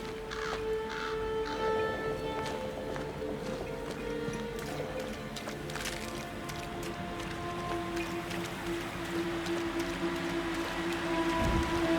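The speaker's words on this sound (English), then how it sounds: "Bugger off, crows." Crows caw in Banishers: Ghosts of New Eden, scattered harsh calls over a steady ambient bed that sounds like falling rain, with occasional soft clopping steps.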